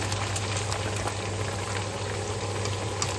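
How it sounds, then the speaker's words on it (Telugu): Chicken pieces fry in a large batch of oil for a 20-litre biryani, a steady dense bubbling and hiss that continues evenly without pause, with no voices. "సో ఈ విధంగా మనం చికెన్ ఫ్రై చేసుకోవాలండి."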